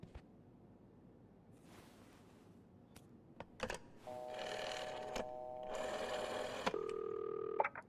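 Phone dialing in This Bed We Made, with soft clicks and taps, then a run of steady electronic tones from a telephone keypad and line, quiet and close, with no talking.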